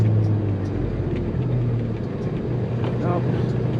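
A truck engine drones low and steady while downshifting through the gears, loud and close from inside the cab, with a faint voice mixed in.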